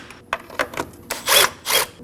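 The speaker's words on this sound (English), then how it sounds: "Using a 10mm socket, we're gonna go ahead and loosen both of these." A 10mm socket loosening the battery tie-down nuts on a 2017-2024 Nissan Armada, heard as a few short metallic clicks followed by two longer ratcheting rasps, close and fairly loud.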